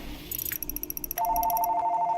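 A phone rings from a private number while a Doom Eternal game plays, with a trilling electronic ring, then a higher repeating tone in quick pulses, moderately loud and close.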